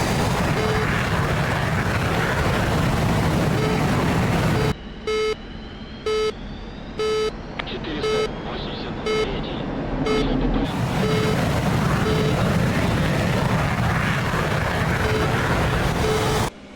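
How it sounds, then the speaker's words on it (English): A MiG-29 jet engine in the DCS flight simulator winds up through its start-up, the spooling turbine roaring steadily alongside a row of evenly spaced sharp cockpit warning beeps, with the roar easing partway through before it swells back. "The engine spool has layers. You can hear the turbine wind up."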